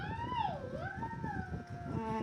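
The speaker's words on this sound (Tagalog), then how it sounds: "Makakasama nga din pala natin sa mga vlogs natin yung ating doggy." A female pet dog howls in a long, wavering, sliding cry close by, rising and falling in pitch with a steady indoor background hum and no talk.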